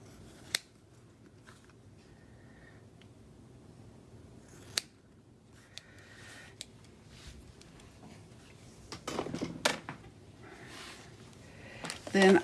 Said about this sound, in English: I'm using a bigger scissors to try to cut it as far across